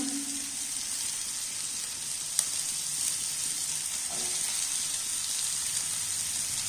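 Chopped ginger, garlic and onion sizzle steadily in hot oil for fried rice and tomato paneer, a constant hiss with one sharp tap of a spoon against the pan partway through.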